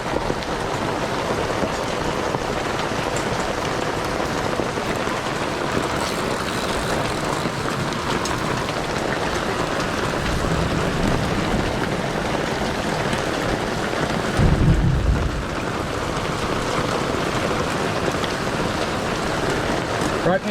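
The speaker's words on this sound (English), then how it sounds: "It's hailing." Hail and heavy rain pelting down on a boat during rough weather fishing on Western Port Bay, a dense continuous hiss with a brief louder burst near the end, no clear thunder.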